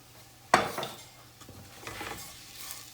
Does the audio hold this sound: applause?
no